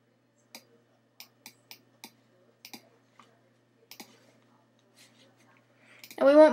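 Sharp, dry mouse clicks come one at a time in an uneven series while cloud brushes are stamped in GIMP, about a dozen close taps with quiet gaps; a voice starts speaking right at the end.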